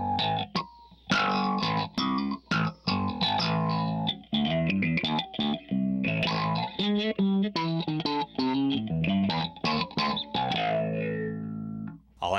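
Bass guitar played through an Electro-Harmonix Bassballs twin dynamic envelope filter pedal, a run of separate notes with quacky sweeping filter tones, loud and close, clear gaps between phrases.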